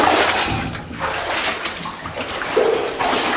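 People wade through water in a Monte Cristo mine tunnel, close sloshing and splashing with irregular surges of churning water that fill the space throughout.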